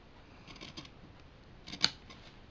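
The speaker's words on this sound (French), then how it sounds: "quand vous allez le couper, faites attention que le ciseau ne parte pas trop vite" A few quiet snips of scissors cutting through material, with one sharper, louder cut near the end against a faint background.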